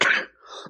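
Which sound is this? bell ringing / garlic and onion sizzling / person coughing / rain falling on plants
person coughing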